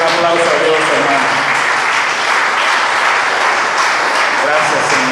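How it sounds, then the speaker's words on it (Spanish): Church congregation applauding steadily and loudly throughout, dense sustained clapping with voices mixed in over it. "Denle un aplauso a Dios, hermano."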